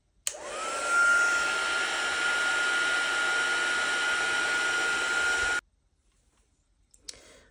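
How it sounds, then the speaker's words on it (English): A heat gun dries a watercolor painting of a folk-art lighthouse, blowing with a loud, steady, whirring hiss for about five seconds before cutting off abruptly into near silence. "I'm gonna bust out my handy dandy heat gun and dry this before I continue on"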